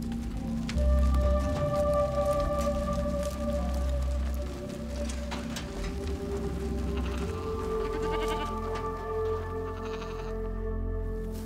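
A sheep in a highland Kolla community in Argentina bleats in several wavering, tonal calls spread across the clip, fairly close and clear over light background noise, with no talk.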